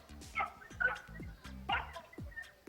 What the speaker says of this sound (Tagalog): Ah, may aso pa ah